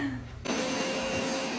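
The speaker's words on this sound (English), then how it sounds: "What's the Hoover gonna do?" A Hoover vacuum cleaner starts up on a carpet with a sudden jump in level, then keeps running as a loud, steady whirring roar close by, with no talk over it.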